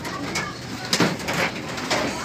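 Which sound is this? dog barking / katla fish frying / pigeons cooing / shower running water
pigeons cooing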